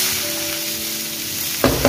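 Onions go into hot oil already crackling with mustard seeds and cumin, giving a steady loud sizzle and then a sharper burst of frying near the end, with no talking.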